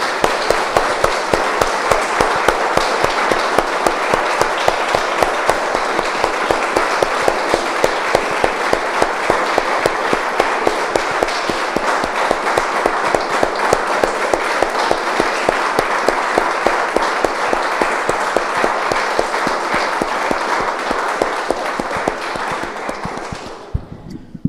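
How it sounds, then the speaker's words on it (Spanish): A church congregation claps together in a long, loud, rhythmic burst of applause during a worship service, steady beats continuing for over twenty seconds before stopping abruptly. "Damos un aplauso, hermanos, al Señor."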